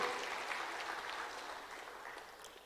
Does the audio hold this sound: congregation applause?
yes